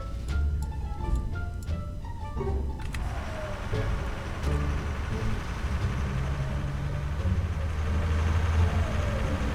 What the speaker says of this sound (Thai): โอ้คุณปูนี่เสียงท่อลั่นอยู่นี่หว่า